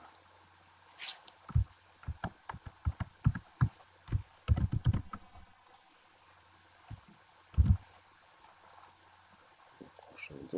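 Computer keyboard typing while entering SQL insert statements for a products table, in uneven bursts of clicks with pauses, one heavier thump, and occasional mouse clicks, no speech.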